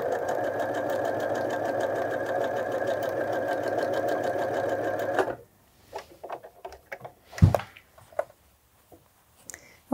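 A sewing machine runs steadily around a collar facing about 1 cm from the edge, a fast even whirring stitch for about five seconds. It then stops, followed by scattered handling clicks and thumps.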